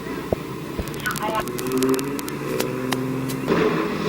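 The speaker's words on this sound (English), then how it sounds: "Troy Campbell in the number 7 truck." Racing trucks at Midvale Speedway under caution, engines droning and revving at mid distance beneath a race announcer's ongoing commentary.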